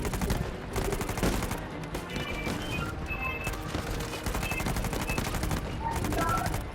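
Gunfire in the video game Uncharted: Legacy of Thieves on PS5, dense rapid bursts of shots cracking continuously throughout, with game sounds mixed in.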